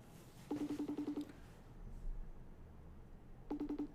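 An incoming phone call's ringtone plays as two bursts of rapid, evenly spaced electronic beeps separated by a pause, faint against a steady background hum.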